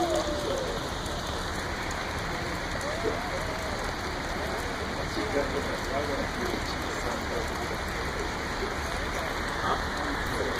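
Rain falls steadily outdoors at a charity ride gathering, a constant dense hiss of drops on surfaces filling the background, with faint voices murmuring underneath.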